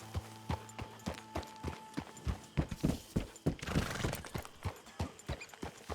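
Horse hooves clip-clop in Red Dead Redemption 2, a run of distinct, fairly close hoofbeats at a walking rhythm, with a brief whinny, steady throughout.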